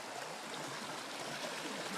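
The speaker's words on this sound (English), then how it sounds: "there's some white water for sure." Water of a brook rushing around a big rock in small white-water rapids, a steady broadband gurgling wash heard up close with no pauses, outdoors near a covered bridge.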